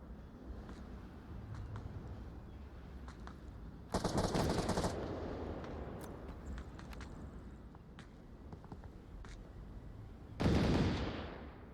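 Gunfire in the VR shooter Onward, scattered distant shots and short bursts over a low background, with two louder, closer bursts of automatic fire standing out.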